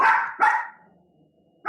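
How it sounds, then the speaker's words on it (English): A dog barks outdoors with someone walking nearby: two sharp, fairly close barks in quick succession, a short quiet pause, then the start of a third bark. "Barking."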